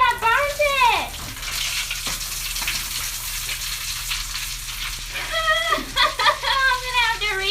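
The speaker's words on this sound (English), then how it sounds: "My butter is sizzling, so I'm gonna check on it." Butter sizzles and begins to burn in a frying pan, giving a steady hiss that fills the middle of the clip, with a voice talking before and after it.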